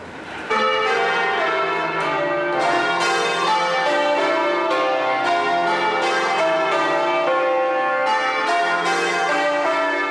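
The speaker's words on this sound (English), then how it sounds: "When there wasn't any traffic, you could hear these bells 3 or 4 miles away in Hackney Marshes." Bow bells, the church bells of St Mary-le-Bow in London, ring out in a continuous overlapping peal, loud and close, with strikes tumbling one after another and bright ringing tones sustaining throughout.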